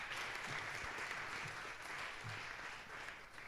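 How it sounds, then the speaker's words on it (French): Audience applause at a conference following a talk on COP26, a steady even wash of clapping filling the room for a few seconds with faint low murmurs underneath. "Je pense qu'on peut les applaudir."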